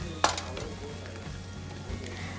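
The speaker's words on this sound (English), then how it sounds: "add half a teaspoon of the Paneer Tikka Masala that we had prepared earlier and just lightly fry it" Tomatoes and paneer tikka masala spice frying in a pan, a steady soft sizzle with a single sharp utensil clink near the start and a faint stir later.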